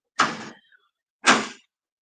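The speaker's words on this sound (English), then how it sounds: "Can you close the door and I'm come out?" Indoor room door pushed shut, giving two separate short thuds about a second apart, fairly close and distinct against silence.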